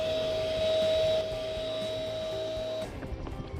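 An electric air pump inflates an inflatable pavilion canopy display, producing a steady, loud mechanical whine with a constant high tone that runs unbroken for almost three seconds and then cuts off abruptly, leaving a fainter rumble.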